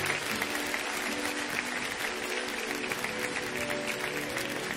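A church congregation at PIB Curitiba applauds, a steady wash of many hands clapping throughout, moderately distant and even, with faint murmuring underneath.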